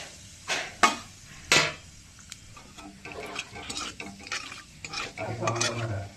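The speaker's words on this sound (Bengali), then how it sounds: "কালো জিরে আর শুকনো লঙ্কা ফোড়ন এর মধ্যে দিয়ে দিচ্ছি।" Black cumin and dry chillies tempering in hot oil: a quiet sizzle broken by several sharp spatula scrapes and clanks against the pan, with irregular stirring throughout.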